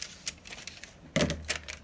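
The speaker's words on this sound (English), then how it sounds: "So I'm just going to cut it over like this for now." Scissors cut through paper in a few short, crisp snips, each a brief rustling crunch close by, with a louder cut near the end.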